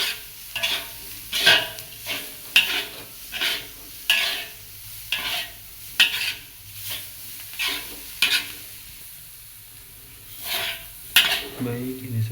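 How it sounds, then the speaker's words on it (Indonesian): Oncom stirred with spices in a frying pan, a spatula scraping the pan in a steady series of short, sizzling strokes, close and fairly loud, with no talk. "Kita aduk sampai bumbu-bumbunya merata"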